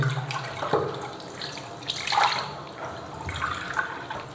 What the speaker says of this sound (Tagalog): Gamit tayo ng warm water para mas mabilis mag-lather.